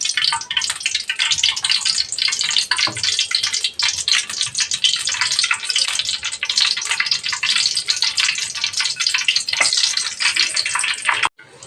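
Loud, dense crackling and hissing of fenugreek seeds frying in hot oil, continuing steadily and close-up with no talking.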